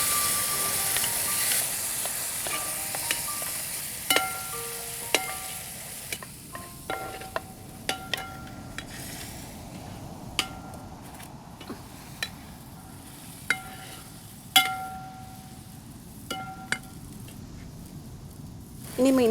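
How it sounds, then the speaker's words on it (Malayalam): Chicken frying in a pan for a yogurt-chili chicken dish is stirred, with a steady low sizzle and scattered scraping clinks from the spoon against the pan; the sizzle stays fairly quiet and constant throughout. "ഇളക്കിക്കോ മോളൂ"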